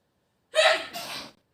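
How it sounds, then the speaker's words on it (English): Biscuit the dog lets out a single sharp sneeze, a close, breathy burst that splits into two quick snorting puffs before cutting to silence. "Oh, he's sneezing."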